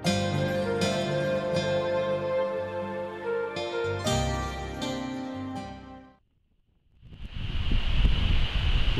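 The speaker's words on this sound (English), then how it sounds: "Wind's picked up now" Wind at a fishing pool rises as a rough, breathy roar in the last few seconds, following a stretch of sustained ringing tones and a brief moment of near silence.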